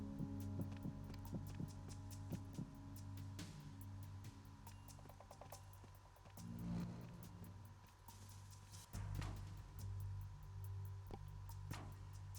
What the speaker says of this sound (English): And there's a heartbeat.